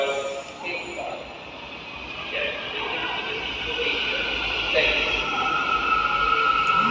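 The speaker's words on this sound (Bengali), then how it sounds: "তো দেখতে পারতেছেন এই তো ট্রেন ঢুকতেছে।" A Malaysian MRT metro train pulls into a station platform with a steadily rising rumble and hiss that grows louder toward the end, while voices murmur nearby.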